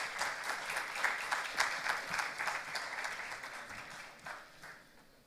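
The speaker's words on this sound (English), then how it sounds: "A round of applause for all our panelists today." Audience at an innovation summit panel discussion clapping for the panelists, steady applause that thins and fades toward the end, moderately distant.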